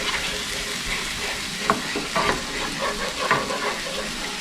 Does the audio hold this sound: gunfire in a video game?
no